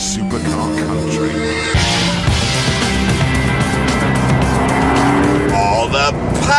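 A supercharged 5.4-litre V8 supercar on sweeping roads in northern France roars loudly as it accelerates through gear changes, its engine note climbing in pitch, with a voice talking over it.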